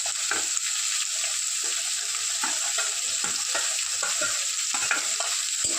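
Chopped onion, tomato and carrot fry with beans in a pan, a constant bright sizzle punctuated by a rhythmic series of spatula scrapes and taps, close and clear with no talking.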